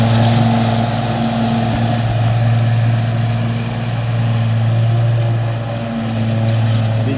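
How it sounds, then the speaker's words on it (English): A brand new lawnmower tractor idles nearby outdoors in a park, its engine holding a steady loud droning hum with a slight dip near the end, no one speaking. "First day of our lawnmower tractor here"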